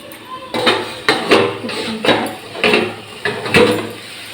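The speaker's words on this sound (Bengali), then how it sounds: "তো এবার আমি ঢাকাটা খুলে দেখবো।" A lid is lifted off a cooking pan of chingri bata, a prawn dish, with a series of metallic clanks and knocks spaced about half a second apart, close and fairly loud.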